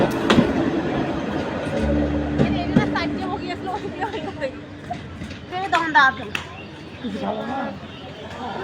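A large passenger train rolls past close by, a steady rumbling clatter with rhythmic clicks running under nearby chatter and talk throughout.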